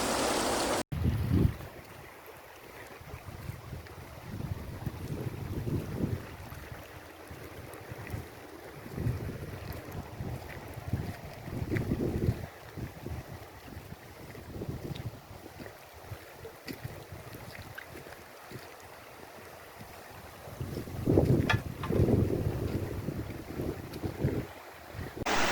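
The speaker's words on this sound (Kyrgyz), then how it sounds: "Суу бер көз, ар көз менен кошулуп агып атат уже." Mudflow water rushes down an asphalt street after a mudslide in Ton district, a continuous rough roar buffeted by wind noise, swelling in stronger surges.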